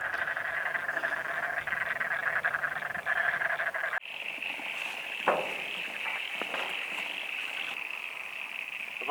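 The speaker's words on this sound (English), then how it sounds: "You can hear the frogs there" Frogs call in a natural area in a continuous pulsing chorus, moderately loud, shifting midway to a higher steady trill with a few sharp clicks and knocks nearby.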